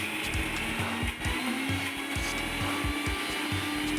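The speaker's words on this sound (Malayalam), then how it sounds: "നേരത്തെ വഴറ്റി വെച്ചിരുന്ന ഉള്ളിയും വറ്റൽമുളകും ഒക്കെ ഇനി മിക്സിയിലിട്ട് ഒന്ന് അടിച്ചെടുക്കാം." A mixer grinder runs steadily and loudly, blending sautéed onion with dried red chillies; a continuous whirring motor hum carries a rapid rattling pulse of ingredients churning inside the jar.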